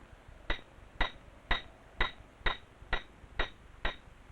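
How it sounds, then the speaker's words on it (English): Pitons hammered into rock cracks during a mountain climb: eight sharp, ringing metallic strikes at an even, steady pace, each clear and distinct against quiet surroundings. "The lead climber's life depends on the pitons he hammers into cracks."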